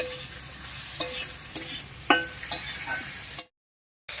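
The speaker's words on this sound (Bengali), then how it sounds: "আলুর সঙ্গে বেগুনটাও একটু ভেজে নিয়েছি" Eggplant and potato fry together in a pan, a soft even sizzle broken by a few spatula clinks and scrapes, then a brief cut to silence near the end.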